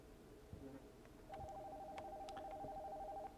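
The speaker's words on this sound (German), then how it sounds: "the phone upstairs is ringing" An old telephone in the Nocturnal Visit horror video game rings upstairs, a faint electronic warble that repeats steadily and sits under a low ambient bed with scattered knocks.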